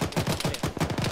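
Rapid bursts of gunfire from an Arma ShackTac multiplayer session on the Fox Hill mission, closely spaced shots in quick succession, loud and near, with no talking over them.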